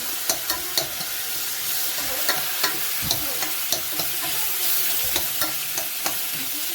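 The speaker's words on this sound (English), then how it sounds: "I stir the rice really good now" A spoon scrapes and stirs washed rice with butter in a pot for Lebanese okra chicken, giving regular close clicks and scrapes over a soft frying sizzle, with no talking.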